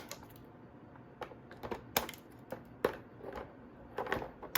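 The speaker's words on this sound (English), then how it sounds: "So I'm just gonna take a scissors to cut them loose." Sharp snipping clicks and plastic crackles come in irregular bursts up close, as scissors cut Jurassic World Dimorphodon toys loose from their packaging in a quiet room.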